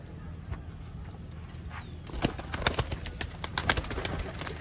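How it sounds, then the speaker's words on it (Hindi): Rare old Sialkoti-breed pigeons on a rooftop stir with faint coos, then a burst of close wing flutters and sharp scuffling taps in the second half over a quiet background. "ये देखें दोस्तों कबूतर"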